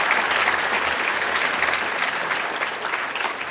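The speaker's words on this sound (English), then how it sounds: "One last round of applause." An audience at a 2018 medical school honors convocation applauds the recipients of clinical excellence awards, a full, dense burst of clapping sustained throughout without pause.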